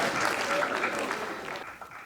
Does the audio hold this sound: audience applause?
yes